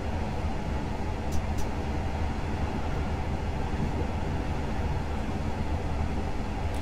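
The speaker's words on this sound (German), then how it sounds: "Dieser Sound von den Güterwagen von TTB und 3D-Zug," Freight wagons rolling in Train Simulator 2020 on a Black Forest line, a dense continuous low rumble and roar with steady rolling noise and two faint high squeals near the start.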